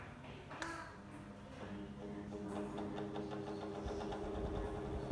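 A wall-mounted electric fan running with a fault, giving a low mechanical hum with faint, rapid rattling ticks layered on top, fairly quiet and close by.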